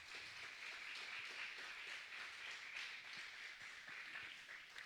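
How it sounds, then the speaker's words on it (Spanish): A church congregation claps for the Lord during a service, a soft, continuous patter of many hands heard from a distance at low volume. "Denle un aplauso al Señor para que no se duerma."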